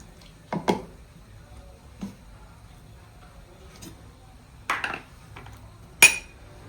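Spice paste stirred in a pan for rui fish curry, giving a few sparse, faint scrapes and clinks of utensil on metal over a quiet kitchen background.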